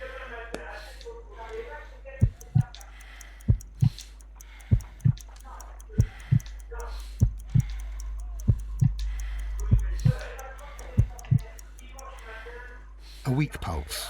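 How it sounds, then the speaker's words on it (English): Slow, weak heartbeat in Sherlock Holmes: Crimes and Punishments, a dying Holmes's pulse around 50 beats per minute, sounding as evenly spaced low thumps, about a dozen in a row, close and distinct with faint background murmur. "I need to concentrate and count the heartbeats."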